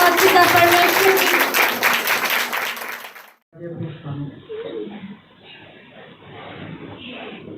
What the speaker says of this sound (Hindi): तारीफ करें जोरदार तालियों के साथ पिता परमेश्वर की